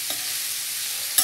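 Zucchini is stirred into hot oil in a pan with chilies, bay leaf and turmeric, giving a short, steady close sizzle with a brief scrape of stirring at the end.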